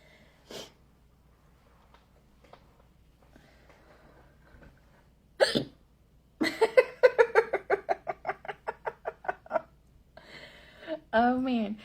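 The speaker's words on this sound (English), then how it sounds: "holding my breath, trying not to hiccup." A woman hiccups once sharply, then breaks into a rapid, rhythmic run of breathy bursts like laughter, with a few soft sounds and a short vocal noise near the end.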